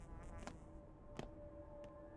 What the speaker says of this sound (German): Hier hat es gerade gesummt, oder?